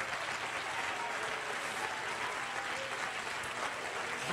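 A church congregation gives a hand clap praise, a steady, dense roar of many hands clapping together, sustained and fairly distant, heard on its own without speech.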